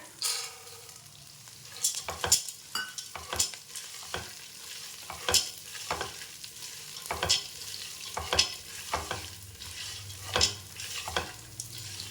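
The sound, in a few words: roasted gram being roasted in a pan on low flame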